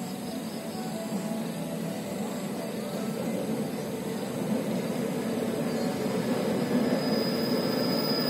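Ultraman locomotive at Huai Yot railway station, a steady rumbling train sound that builds slightly louder toward the end, with no talk over it.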